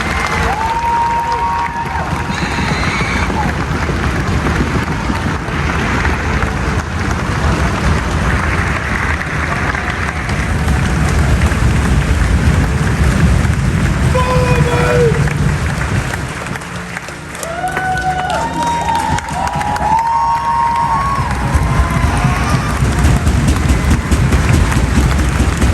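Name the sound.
crowd applause and cheering at army graduation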